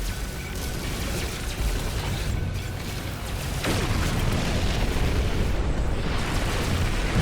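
Spaceship combat in the No Man's Sky video game: loud, continuous roaring blasts and rumbling explosions with a sharp burst partway through, filling the whole stretch without speech.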